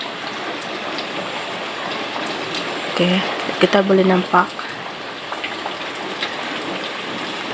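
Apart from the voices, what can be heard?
rain falling on plant roots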